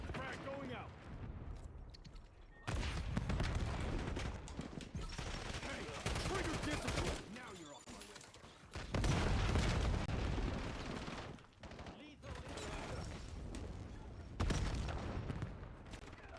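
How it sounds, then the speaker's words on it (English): Video game firefight with a frag grenade thrown and bursts of gunfire, loud dense blasts and rattling shots in several long stretches separated by brief lulls, with players talking over the action. "Frag going out"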